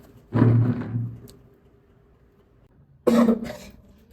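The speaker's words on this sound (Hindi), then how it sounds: "यार तू फिर खांसना शुरू कर दिया" One person gives two harsh, close coughs a few seconds apart, each a short burst with a throaty rasp, with quiet in between.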